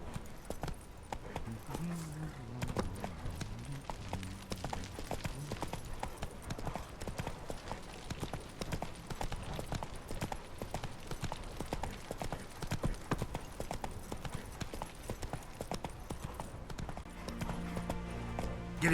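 Horse hooves galloping in The Witcher 3, a steady rapid clip-clop rhythm running throughout, fairly loud and close, with music and faint voices underneath.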